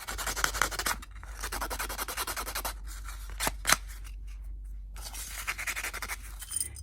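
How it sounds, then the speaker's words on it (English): Sandpaper is rubbed over a small flea-market found object in fast, close, raspy strokes that pause briefly and then resume. "I'm gonna take some sandpaper and I'm gonna sand it off."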